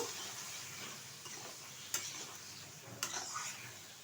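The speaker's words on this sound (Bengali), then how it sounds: "ভালোভাবে কষিয়ে নেব" Goat meat trimmings being sautéed and stirred in a pan, a faint low sizzle with two sharp utensil clinks against the metal.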